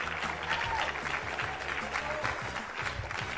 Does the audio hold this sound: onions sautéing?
no